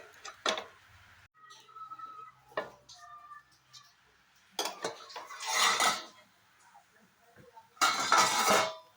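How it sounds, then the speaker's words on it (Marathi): A metal lid clanks onto a pan of sabudana thalipeeth, with several close clinks and scrapes of cookware separated by quiet gaps, and no voice over them. "आणि थोडं 2 मिनटं झाकून ठेवायचं याच्यावर."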